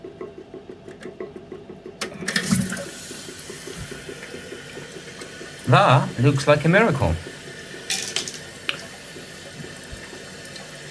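A toilet cistern refills through its inlet float valve after a diaphragm replacement, giving a steady watery hiss with gurgles throughout while a person talks briefly over it.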